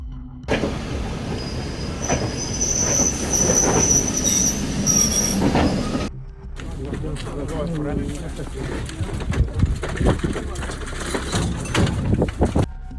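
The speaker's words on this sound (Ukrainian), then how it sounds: "Це буде поїзд, Він приїжджає з Дніпра" A medical evacuation train arrives from Dnipro, its wheels squealing and carriages rumbling loudly for several seconds. After a brief break the rolling, clattering rail noise continues, with voices and birds faintly in the background.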